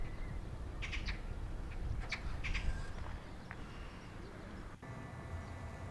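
Several short, high plover calls ring out in a quick cluster, faint and somewhat distant, over a steady outdoor background hiss.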